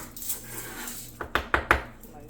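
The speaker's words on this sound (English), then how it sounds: "we'll cut the onion" Knife cutting through an onion on a board for BBQ tofu, three or four quick sharp chops close together near the end, following a soft murmur of background talk.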